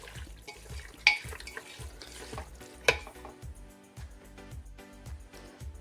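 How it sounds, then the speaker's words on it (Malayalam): Beef curry being stirred by hand with spice powder in a pot, soft rhythmic scraping and squelching with a faint sizzle, two sharper clinks of utensil on metal standing out. "ഈ പൊടിയും കൈ കൊണ്ട് തന്നെ വീട്ടിലെ ആവശ്യത്തിന് വേണ്ടിയിട്ടായതുകൊണ്ട് കൈ കൊണ്ട് തന്നെ ഇളക്കിയാലും മതിയാകും"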